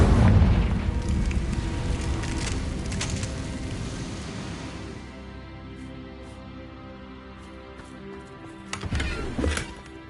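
A Confringo fire spell explodes in the Hogwarts Legacy video game, a loud booming blast with a long rumbling roar that fades over several seconds, followed by a few small crackles and a minor burst near the end.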